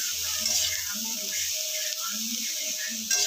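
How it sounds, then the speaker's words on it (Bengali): Vegetables fry in melting butter with a soft, continuous sizzle, while a voice talks quietly over it. "সবজিগুলো একটু ভাজা হতে হতে বাটারটা আস্তে আস্তে গলে যাবে"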